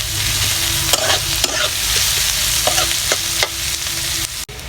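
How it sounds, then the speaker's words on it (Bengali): Onions sizzle steadily in a hot pan, with repeated scraping stir strokes from a spatula breaking through the frying hiss, close and fairly loud, with no talking. "আমার পেঁয়াজটা ভাজা হয়ে গেছে"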